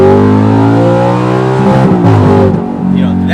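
Audi R8 V8 with R-tronic gearbox pulling hard under full throttle, a loud, close engine note rising steadily with a gear change partway through, a voice talking over it.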